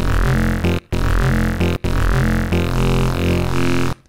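A dense, buzzy FM-synthesized bass tone built from a sine wave plays in three repeating bursts separated by brief silences, loud and electronic.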